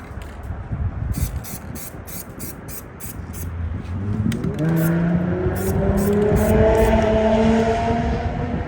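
A Ford Mustang engine idles roughly, rising in a steady growl after a few seconds, with sputtering spray-like hiss and clicks early on.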